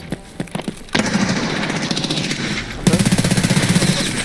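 Automatic gunfire in the video game Escape from Tarkov opens with a few scattered single shots. Two sustained rapid bursts follow, loud and close, with a rattling rhythm.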